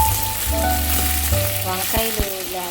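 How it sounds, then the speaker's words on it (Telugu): Dried red chillies and curry leaves frying in hot oil for an eggplant curry, a close, loud, crackling sizzle with sharp spattering pops toward the end. "ఎండుమిర్చి, కరివేపాకు కూడా వేసి వేగించుకోవాలి"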